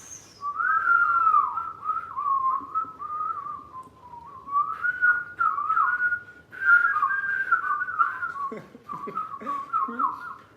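A person whistles a wavering, bird-like melody in a continuous run of slides and trills, fairly close and clear, with brief pauses between phrases.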